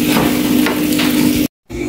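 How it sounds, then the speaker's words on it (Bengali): Pieces of beef boti kabab fry in a pan, turned from side to side, with a close bright sizzle, a steady hum and a few scraping stirs before a brief silent break, then more frying. "আমি এভাবে করে এপাশ ওপাশ করে ভেজে নিয়েছি।"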